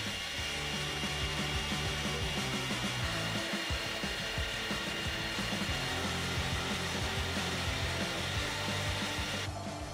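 A Bernardo Profi 600 G bench lathe runs at 2000 spindle RPM, giving a steady, close mechanical whir with a continuous high-pitched hum and faint rattling that carries on without a break.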